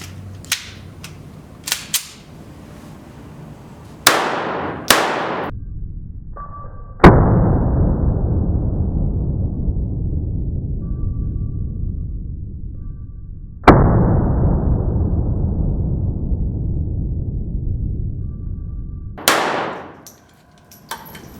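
A Smith & Wesson .380 EZ pistol fires single shots, each a loud sharp crack with a long ringing decay, spaced several seconds apart amid quieter clicks and handling noises of the gun.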